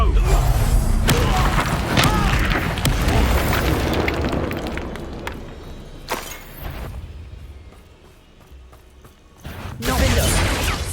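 Loud booming explosion blasts from an Expulso spell in Hogwarts Legacy combat, a heavy burst up front, sustained rumbling debris, a quieter lull, then another big blast near the end, with game voices shouting over the action.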